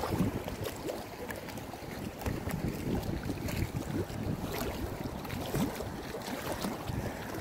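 Strong wind at sea buffets a small fishing boat, a constant roaring rumble of wind across the microphone with water and hull noise beneath, steady and unbroken.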